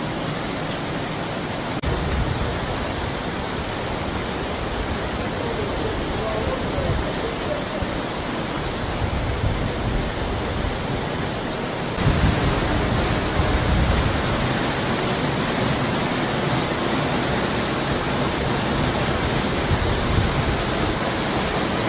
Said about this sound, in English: Tallest waterfall in Kentucky,